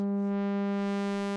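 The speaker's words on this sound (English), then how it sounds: "it sure sounds like a sawtooth wave" A synthesized tone at 200 hertz, shaped into a sawtooth-like wave by single-sample feedback phase modulation, holds steady and bright with a rich stack of harmonics, sounding alone for just over a second.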